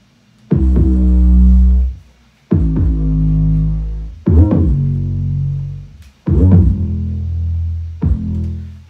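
Four long, booming 808 bass notes from a sample library, each with a hard attack, a sustained deep tone and a cutoff, playing in a slow beat pattern with no other sounds around them.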